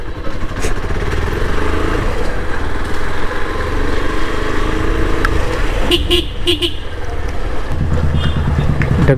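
Loud, continuous road traffic on the Belgharia Expressway, with a Bullet motorcycle engine rumbling past close by among cars and brief horn toots, heard steadily throughout with no talking.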